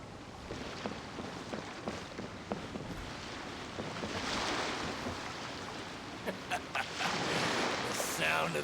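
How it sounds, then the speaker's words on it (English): Ocean waves in Genshin Impact, a steady hissing wash of surf with soft wind, gradually swelling toward the end with a few light clicks and taps mixed in. "The sound of the ocean waves."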